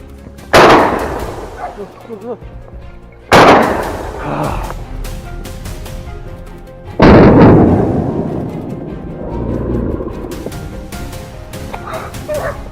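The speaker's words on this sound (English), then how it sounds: "The resounding gunfire made sure that the hog had no chance to escape." Gunshots during a wild boar hunt in a pine forest: three loud, sharp close reports with long decaying echoes, separated by a few seconds, alongside dog barking, yips and whimpering.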